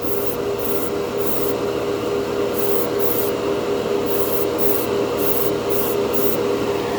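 Mr. Clear Color GX candy color paint sprayed from an airbrush in steady, continuous hissing bursts, close by and fairly loud, with brief pauses between passes and no talking.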